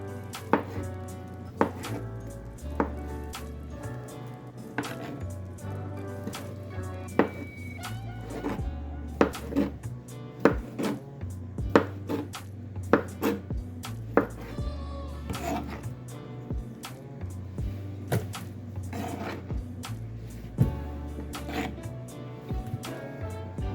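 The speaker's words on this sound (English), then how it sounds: "I'll start cutting our sausages. I'll say about 2-inch cut." A knife chops sausages into 2-inch pieces on a board, a long run of irregular, sharp thunks spaced a second or two apart, close and clear over a faint low hum.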